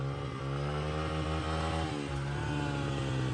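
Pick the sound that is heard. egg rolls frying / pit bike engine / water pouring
pit bike engine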